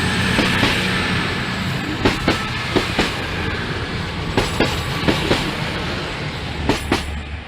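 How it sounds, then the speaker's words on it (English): A passenger train pulls in at a platform at Basingstoke station, with a steady rumble and repeated clickety-clack wheel beats over the rail joints and a faint squeal, loud and close throughout. "the train now approaching platform 2"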